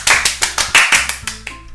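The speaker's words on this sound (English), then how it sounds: "The four of us applaud." Applause sound effect from the Doki Doki Literature Club visual novel: several sharp, close hand claps in an uneven burst, loud and clear, thinning out toward the end.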